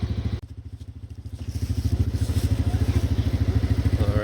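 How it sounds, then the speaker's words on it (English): A small Polaris Sportsman 90cc ATV engine idles with a fast, steady putter, dips briefly, then climbs to a higher, louder rev. Close and mechanical, with no voices. "All right, Damon, give us some gas. Faster than that. More"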